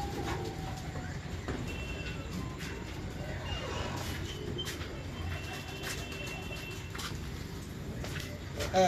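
Pigeons in a home loft coo softly in the background, with faint fluttering and clicks, while someone talks nearby over the low hum of the loft.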